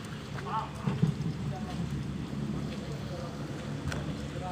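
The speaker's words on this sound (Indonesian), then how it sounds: "Hujan disertai angin." Heavy rain driven by strong wind in Curup makes a dense, constant rushing hiss with gusty low rumbling buffets against the microphone, while a person speaks over it.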